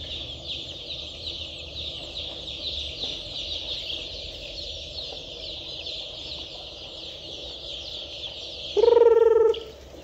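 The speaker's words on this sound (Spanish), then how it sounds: "Me encuentro en este momento acá con esta pequeña granja de pollito" Young chicks on a small chicken farm peep in a continuous high chorus, with a louder, lower cluck or call rising near the end.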